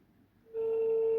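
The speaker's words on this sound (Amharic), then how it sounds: "ይኸው እየጠራ ነው።" A phone call to a relative rings out on the receiving line: after a half-second of faint room hiss, a steady, loud ringback tone starts and holds continuously with no voices over it.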